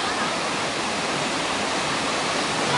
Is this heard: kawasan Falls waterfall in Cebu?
yes